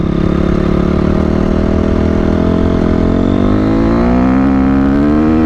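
A Honda CRF 250R dirt bike engine revs hard, loud and close, its pitch climbing steadily as the throttle opens, with a brief spoken word near the start.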